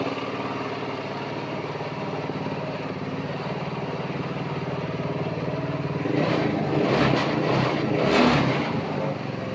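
A side-by-side UTV engine idles steadily and close by, then revs a couple of times with throttle blips before settling back.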